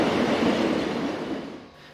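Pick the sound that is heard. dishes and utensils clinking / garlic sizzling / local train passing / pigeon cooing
local train passing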